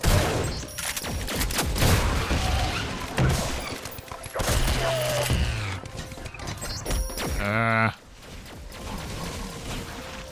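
Gunfire bursts in Doom, several loud shots mixed with game effects and a rising warbling sweep, while someone talks over the action.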